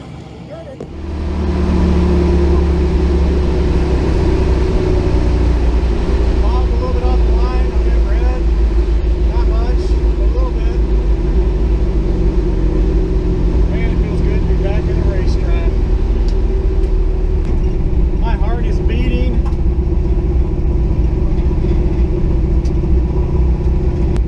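A carbureted drag racing wagon car idles at Atlanta Dragway, its engine rumbling loud and steady after a brief quieter start, while people talk nearby over the noise.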